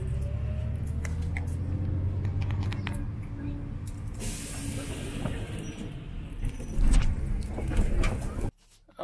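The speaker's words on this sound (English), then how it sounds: "On the bus on the way home." Ride on a city bus between Cancun and Playa del Carmen: a steady low engine rumble and road noise with scattered rattles and clicks, a brief hiss of air midway, and a louder surge before the sound cuts off.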